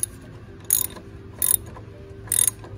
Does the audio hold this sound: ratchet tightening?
yes